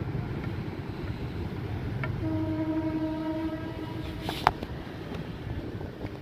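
A train rolls past the Khilgaon railway gate in Dhaka, its horn sounding in a sustained blast mid-clip over the steady rumble of the wagons, with a sharp clank near the end.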